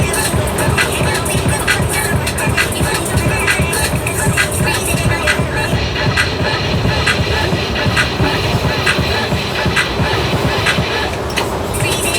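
A train rattles steadily along the tracks with constant rumbling and clattering from start to finish.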